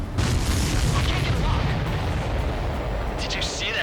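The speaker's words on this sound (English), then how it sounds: "Did you see that explosion?" A video game explosion in Ace Combat 7 during an aerial mission: a loud, rumbling boom that rolls on with a dense roar, with radio chatter and engine noise mixed in.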